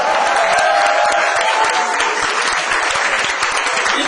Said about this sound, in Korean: 저 뒤에 계신 분 박수 한번 치세요.